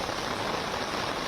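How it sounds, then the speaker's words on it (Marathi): Heavy rain pours down around CSMT in Mumbai as a dense, even hiss with no breaks or voices over it. "सीएसएमटी परिसरामध्ये आत्ता जोरदार पाऊस पडतोय"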